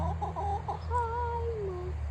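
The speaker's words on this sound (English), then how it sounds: "there's only one rooster here" Rooster on a farm giving a few short clucks, then a longer drawn-out call, close by over a steady low hum.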